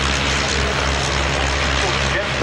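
A jet aircraft roars continuously and loudly at an airshow, a broad steady engine rush filling the air as it begins its takeoff run.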